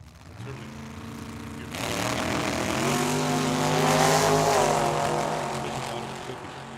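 A dragster roars through a run at Tucson Dragway, a loud engine blast that swells in mid-run and stays heavy and sustained to the end, with rising harmonic engine tones under the din.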